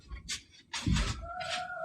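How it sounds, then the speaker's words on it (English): A neighbor's chickens cluck in short, close bursts, with a brief crowing note, heard alone without talk. "Now, those are not our chickens, by the way."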